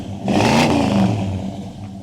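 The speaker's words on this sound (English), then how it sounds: "Okay, Anthony, rev the engine." A 1985 Chevy Monte Carlo G-Body's engine given a single quick rev, rising loudly to a throaty peak and then settling back toward idle, close by and alone.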